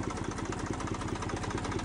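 A tractor engine runs on a farm after two hours of overnight rain, giving a steady, close, throbbing rumble with an even mechanical beat and no other sounds over it.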